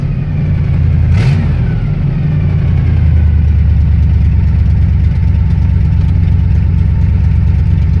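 A 1978 Corvette C3 L82 engine idles steadily around 1,000 rpm with a low, even rumble throughout, close by and fairly loud, with a brief rise in pitch near the start.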